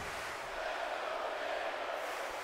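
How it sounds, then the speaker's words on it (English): Virtual arena crowd in the WWE 2K18 wrestling game, set in Detroit, producing a steady, broad roar of cheering that holds at an even level through the short stretch with no clear speech over it. "you can hear in this crowd right now anyway in Detroit as we focus back to the matchup that they are cheering The Undertaker on"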